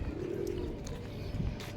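Pigeons kept at a home loft, including a round crested bar pigeon, coo in a low, steady murmur against a constant background hiss, with no voices heard.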